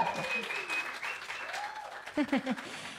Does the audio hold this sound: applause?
yes